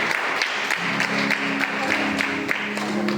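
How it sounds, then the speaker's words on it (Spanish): Church congregation clapping together as an offering of applause, a sustained wash of many hands with a soft tonal hum beneath it. "una ofrenda de aplausos"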